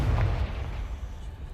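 A Confringo fire spell cast in Hogwarts Legacy lands as a deep, booming blast up front, its low rumble quickly fading into a dull lingering tail with no one talking.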